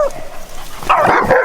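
A dog barks and yips during obedience training outdoors, a few sharp close barks bunched in the second half, with faint background sound and no clear talk.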